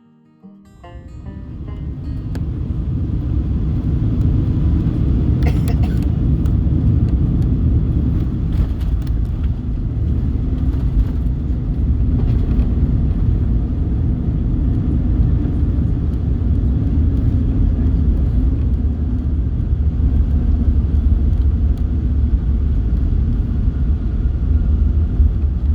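Inside the cabin of a Lufthansa Boeing 747-8 at Chicago O'Hare, a loud, steady low rumble builds quickly after a brief quiet start and holds through landing rollout and taxi, with a few faint clunks and no talking.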